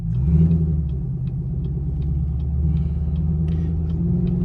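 A 500hp Chevrolet Camaro SS pulling away in first gear, its engine giving a loud, deep, steady rumble with a throbbing low drone heard from inside the car, plus faint light ticking in the background.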